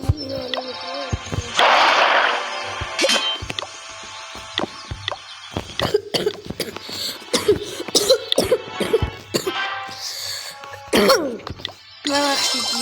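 Children coughing repeatedly, a burst of harsh, close coughs with short pauses between them, fairly loud, mixed with throat clearing and a few sharp knocks.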